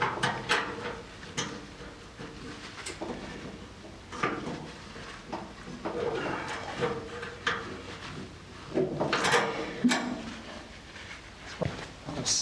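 Small metal line bent by hand around a socket used as a mandrel during a GT3 road race chassis rebuild, giving scattered clicks, taps and scraping knocks with quiet gaps between them and no talking.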